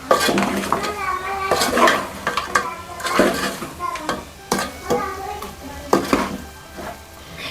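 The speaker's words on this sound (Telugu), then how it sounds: "ఇప్పుడైతే బాగా ఒకసారి మంచిగా అయితే కలుపుతాను" A spoon stirs mutton curry with chili powder in a metal pot, giving repeated close scrapes and clanks in an uneven rhythm while a faint sizzle continues underneath.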